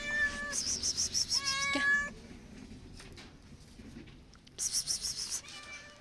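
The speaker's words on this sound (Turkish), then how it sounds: "Kedi geldi." A cat meowing near a Turkish home, a quick burst of several short meows followed by a longer meow, a quiet pause with faint rustling, then another run of rapid meows.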